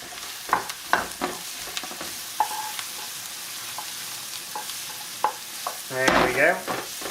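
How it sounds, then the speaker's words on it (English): Mushrooms frying in a pan on high heat, a steady sizzle broken by repeated scraping and clinking stir strokes, busier and louder near the end, close up. "We put the mushrooms in."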